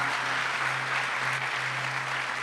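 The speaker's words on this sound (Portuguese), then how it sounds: "Vamos dar uma salva de palmas para todos os nossos voluntários." Applause for volunteers from a church congregation at a worship gathering, a dense, even wash of clapping from a large crowd holding steady throughout with a low hum beneath it.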